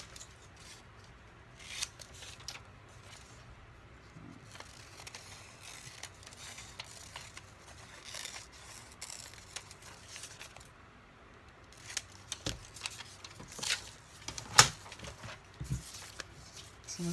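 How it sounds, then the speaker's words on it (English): Scissors cut through aged paper for a collage, with scattered, fairly quiet snips and rustles coming at irregular intervals, a few sharper cuts standing out near the end, and no talking. "I'm afraid it might bend, so I'm going to cut it."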